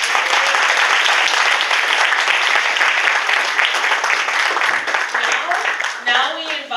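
A graduation ceremony audience claps loudly and steadily, the dense applause continuing until a speaker's voice cuts in near the end.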